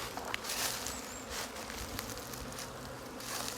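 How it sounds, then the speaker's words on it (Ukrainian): Honey bees buzzing steadily at a low hum among alder trees at an apiary, a soft continuous drone of many bees with no voices, moderately quiet throughout. "Дуже багато в мене ось на пасіці вільхи ростуть, просто вони гудуть бджолами."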